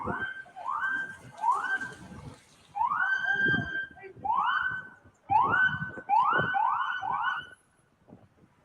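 An emergency vehicle siren is captured in cellphone footage, wailing in repeated rising whoops that come in bursts with short pauses between them. It sounds fairly close and clear.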